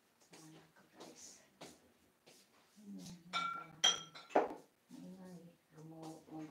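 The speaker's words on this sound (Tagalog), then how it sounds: "Maingay talaga maghugas ng pinggan ng asawa ko" Sharp clinks of glasses and plates knocking together as dishes are washed, several bright ringing taps rising above people talking nearby.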